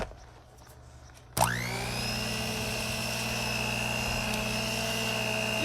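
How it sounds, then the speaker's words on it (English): An electric hand mixer switches on abruptly and runs at a steady high-pitched whir, mixing cream cheese pound cake batter in a bowl; the motor hum is loud, close and unbroken. "So once I fold it, then I use the hand mixer to finish it up."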